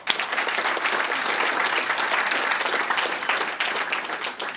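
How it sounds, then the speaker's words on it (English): A large audience at an awards event claps loudly and continuously, a thick crackling wall of hands that holds steady for several seconds before easing slightly. "Let's give her a big round of applause."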